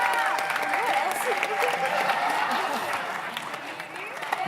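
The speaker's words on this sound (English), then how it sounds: "let's have your applause." Sustained audience applause with some cheering from a crowd at a live conversation event, steady and fairly full throughout, tapering slightly near the end.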